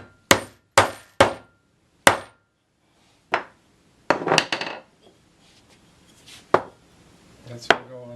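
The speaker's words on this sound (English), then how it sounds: "And you just hammer it in." Several sharp hammer strikes drive a four-pronged T-nut into wood one after another at an uneven pace, close up, followed by a few fainter knocks and handling sounds.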